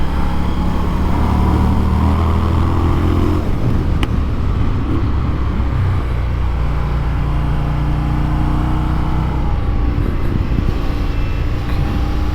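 A 2019 Indian FTR 1200 S motorcycle engine roars steadily at high revs around a race track, with a loud, continuous drone that shifts pitch as the rider works through the gears and the wind rushes past.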